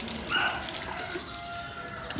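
Water rushes and splashes steadily nearby as a cow is washed in the morning, a continuous pouring and gushing sound with faint background noise.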